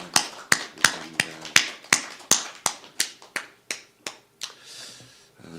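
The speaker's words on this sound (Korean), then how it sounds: "우리 하나님께 영광의 박수 올려 드리겠습니다" A church congregation at a Sunday service claps in unison, about fifteen sharp, separate claps in a steady beat that slows and grows fainter toward the end.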